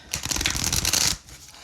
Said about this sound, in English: let's go ahead and get started with some satisfying shuffles